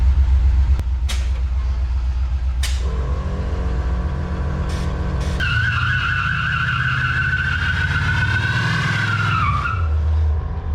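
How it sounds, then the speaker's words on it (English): A 1967 Toyota Stout truck spins its rear tire in a loud burnout, the engine revving hard while rubber skids and squeals continuously for several seconds before easing off. "Had to smoke the tire a little bit"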